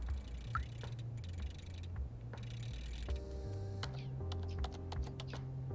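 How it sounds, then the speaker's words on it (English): Keys clatter in quick, irregular clicks as a cat walks across a computer keyboard in the video game Stray, heard over a steady looping game music bed with no talking. "Look, I'm on the keyboard."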